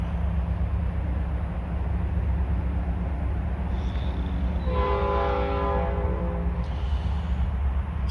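A freight train rumbles steadily past the northwest corner of Joliet Cemetery, near a rail diamond shared with the former Rock Island, now Iowa Interstate. Partway through, one long, loud horn blast sounds over the constant rolling of the cars.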